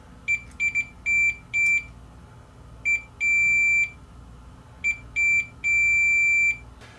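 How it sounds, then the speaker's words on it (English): A multimeter set to continuity beeps while a switch is tested on a garage-sale Marantz CD player. High electronic tones come in short bursts and longer held beeps, loud over a low background hum. "I just have my meter in continuity mode, and we'll just test for continuity when I press the switch in."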